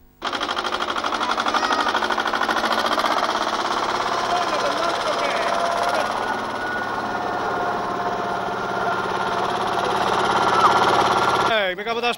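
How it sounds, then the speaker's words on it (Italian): A makeshift minibus built from an agricultural vehicle runs with a loud, steady, rattling engine drone close by for the whole stretch, with a brief mechanical squeal near the end. "Non resta che affidarsi a minibus di fortuna come questo."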